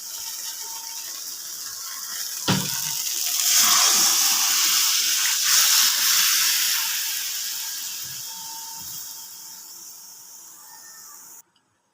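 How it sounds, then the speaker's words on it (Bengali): Boiled vegetables dropped into spice paste in a pan for Bengali shukto, a sharp clatter followed by a broad steady sizzle and hiss that fades away before a sudden cutoff. "মশলার মধ্যে এবার সেদ্ধ করা সবজি দিয়ে দেবো।"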